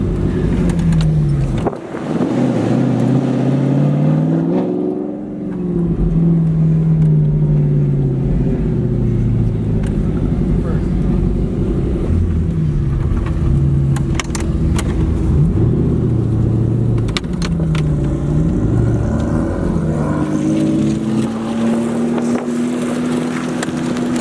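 A McLaren 720S engine revving hard for a long stretch, loud and close, with rising and falling pitch sweeps and a brief dip near the start, wind buffeting the microphone throughout.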